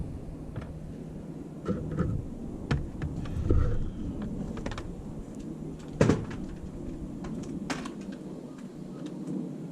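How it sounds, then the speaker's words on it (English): A low, rolling rumble of military aircraft passing overhead at a distance, with a few sharp knocks and clatters nearby. "We've had a lot of military aircraft flying over our house."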